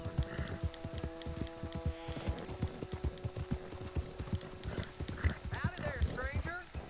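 Horse in the Red Dead Redemption 2 video game, with rhythmic hoof clip-clops throughout and a whinny near the end, heard under steady talking and a faint tonal hum.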